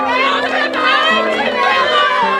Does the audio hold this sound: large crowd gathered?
yes